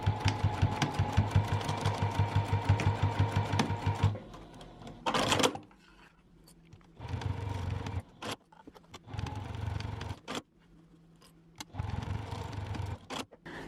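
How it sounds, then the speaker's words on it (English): A sewing machine stitches across the corners of a fabric trinket tray, first a fast steady run of needle strokes, then several shorter bursts separated by pauses as the fabric is turned and backstitched. "I'm going to take this over to my sewing machine and I'm going to sew directly on these lines on all 4 corners"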